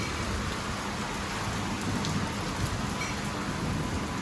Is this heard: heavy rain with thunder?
yes